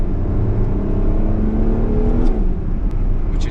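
A Ferrari 12Cilindri V12 engine revs hard in a car with a 9,500 rpm rev limit. The engine roar climbs in pitch as it builds, then eases off, heard steadily and fairly loud throughout.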